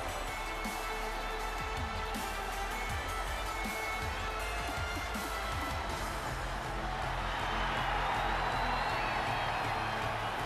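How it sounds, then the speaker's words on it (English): A WWE 2K22 arena crowd cheers for King Nakamura, a distant, steady roar of many voices with scattered whoops under constant music, swelling slightly toward the end. "The crowd are on their feet for King Nakamura."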